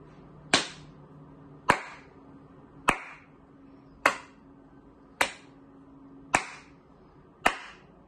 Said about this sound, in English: How many claps did I do?